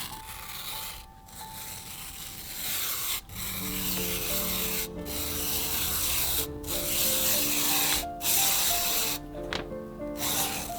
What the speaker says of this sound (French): je vais le découper avec mon coupe-lacet pour avoir un résultat parfaitement régulier